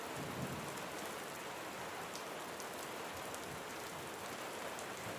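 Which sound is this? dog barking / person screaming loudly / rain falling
rain falling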